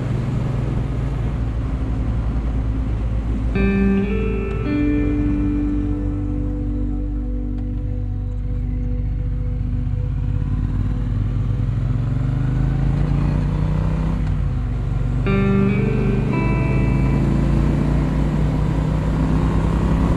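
A Triumph T120 motorcycle rides along with a steady, loud engine drone and wind rush, its pitch rising and falling through gear changes across the run, heard close from onboard with no talk.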